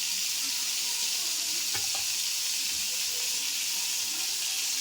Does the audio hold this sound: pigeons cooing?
no